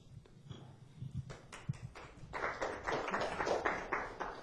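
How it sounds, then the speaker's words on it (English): An audience applauds a speaker at a healthcare workflow presentation. After a few scattered taps, clapping swells into steady, moderate applause from the room. "I just got the applause"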